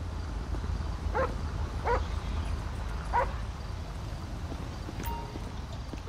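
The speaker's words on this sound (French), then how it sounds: "Allez, on va laisser le chien chercher." A police dog in GTA with the LSPDFR mod gives three spaced barks at a moderate distance over a steady low rumble of traffic, with a faint tone near the end.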